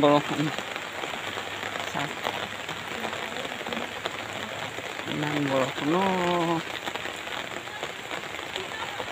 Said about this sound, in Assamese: আকৌ এবাৰ বৰষুণত ওলাইছোঁ এই ছাতি লৈ